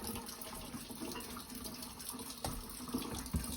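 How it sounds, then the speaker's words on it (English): Tap water runs steadily into a sink while food is washed under it, a continuous close splashing with a few brief knocks and clatters near the end and no talk. "Go ahead and wash them, Colin."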